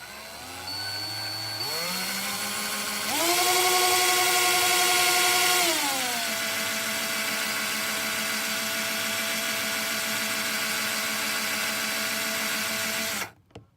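A power drill with a 14 mm bit bores through the plastic shell of Fatshark HDO FPV goggles. Its steady, loud motor whine runs for about twelve seconds, rising in pitch partway through, then easing back before cutting off abruptly. No one speaks.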